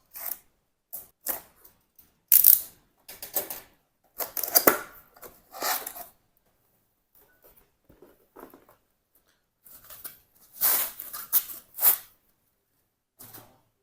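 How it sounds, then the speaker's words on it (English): Unboxing a Lenovo Legion Pro 7i laptop with an RTX 4080: scattered bursts of cardboard rustling, sliding and tearing packaging, close and fairly loud, separated by quiet gaps. "Let's unbox this device."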